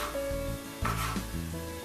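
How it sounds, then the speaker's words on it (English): Chopped onions sizzle and fry in a pan for chili, a soft steady crackle heard close and alone with some brief stirring noise. "Now we're going to cook this until the onion is about golden brown"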